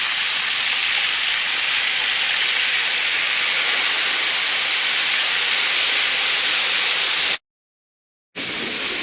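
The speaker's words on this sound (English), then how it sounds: "What we want to do is go ahead and just sear this, get it nice and brown." A steak sears on a hot teppanyaki griddle with a loud, steady broadband sizzle that hisses continuously, then cuts out abruptly for about a second before resuming.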